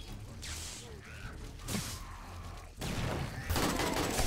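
Gunfire in the video game 7 Days to Die, played with the Apocalypse Now mod on horde day: several bursts of shots roughly a second apart, with the last bursts loudest and longest, over a rumbling background.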